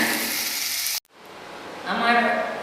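Boiled Maggi noodles stirred with turmeric in a pan with fried egg, a soft frying sizzle that cuts off abruptly, then returns with a scraping stir and a louder hiss.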